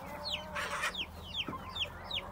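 Chickens cluck in a coop, with a rooster among them, in a quick run of short rising calls and one louder squawk burst, moderately close with a steady background hum and no speech.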